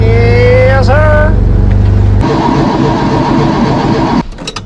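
A car engine cranks and catches, a loud low rhythmic starter churn that gives way to a steady idle, overlaid at first by a high rising whine and ending in a short burst of clatter.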